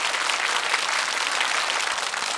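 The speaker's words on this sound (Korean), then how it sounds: "박수 주십시오." A TV game-show studio audience claps steadily, a dense, even burst of many hands at moderate volume that lasts throughout without pause.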